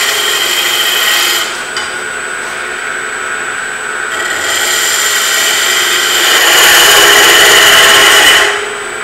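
A wood lathe turns a pepper mill cap, the tool scraping and hissing against the spinning wood in a loud, continuous rasping roar that swells and eases, with no voices.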